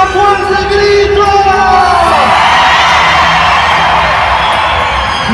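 A large crowd at an evangelistic stadium event in Mexico City lets out a loud, sustained shout and cheer, with a voice over the start before the roar swells and holds to the end.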